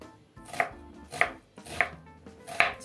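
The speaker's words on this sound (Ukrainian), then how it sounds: "Для початку нарізаю цибулю." A kitchen knife chops an onion on a cutting board for a lavash pie, four evenly spaced sharp cuts landing roughly every half second, close and fairly quiet, with no speech.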